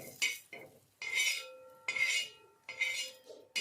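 Fried onion slices are lifted out of a pan with a utensil for a quick chutney: four quiet scraping and clinking strokes, spaced by short pauses, with no talking.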